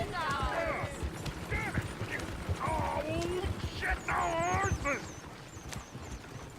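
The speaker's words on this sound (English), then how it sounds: "Damn horses!" Horses trot with rhythmic clip-clopping hooves in the Red Dead Redemption 2 video game, running under several overlapping voices talking over the sound, with a bird-like chirp and other ambient game sounds in the background.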